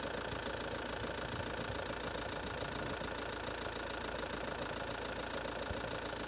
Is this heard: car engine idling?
yes